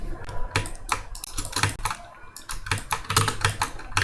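Keys on a computer keyboard clatter in quick, irregular bursts of close, crisp taps, with short pauses between runs of typing and no speech.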